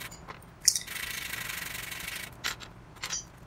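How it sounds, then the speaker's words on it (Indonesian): Sandpaper rubbed by hand over a repaired contactor part, a steady dry scratching stroke lasting about a second and a half with a few short sharp scrapes before and after, close and fairly quiet. "Nah kita dialusin lagi pakai amplas biar rata gitu ya"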